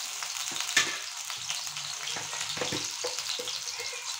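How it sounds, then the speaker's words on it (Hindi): Potatoes frying in a kadai, a moderate steady sizzle broken by light spoon clinks and stirring scrapes, close and without speech. "ये आलू टा फ्राई कर लेंगे"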